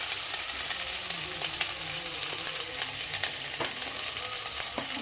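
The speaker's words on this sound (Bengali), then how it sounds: "আলু আর টমেটোটা হালকা ভাজা হয়ে এসেছে, এর উপরে আমি দিয়ে দিচ্ছি হলুদ গুঁড়ো।" Potatoes and tomatoes frying in mustard oil in a pan give a steady, close sizzle with a crackly hiss that holds even throughout, along with a few soft clicks from stirring and no voices.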